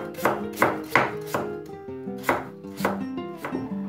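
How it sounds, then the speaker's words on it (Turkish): Potatoes sliced thinly with a knife for a pan-cooked potato börek, heard as about nine crisp, evenly spaced knife strokes against a cutting board, close up, with no talking. "Şöyle bunları bir dilimleyelim."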